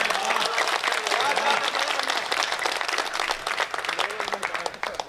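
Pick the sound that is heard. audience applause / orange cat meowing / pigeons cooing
audience applause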